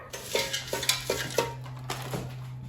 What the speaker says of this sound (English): just dump peas and carrots in the air fryer